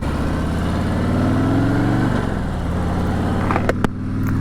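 A 2018 Harley-Davidson Road King motorcycle engine revs loud and close, its deep throb rising in pitch, then falling back to a lumpy idle, with a couple of sharp clicks near the end.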